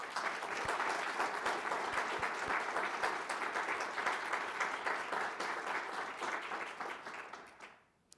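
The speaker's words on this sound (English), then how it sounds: "Let's give them all a round of applause." A school audience at a state-of-the-school address gives sustained applause, a dense and even wash of many hands clapping that carries on for several seconds and then fades away.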